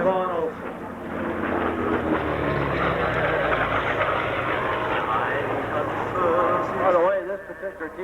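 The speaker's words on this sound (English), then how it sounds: "The FG-1D Goodyear Corsair flown by Vaughn Olson." An FG-1D Goodyear Corsair flies at a 1994 air show in Clark County, Indiana, its propeller engine roaring loudly with a swelling, shifting drone while an announcer talks over it.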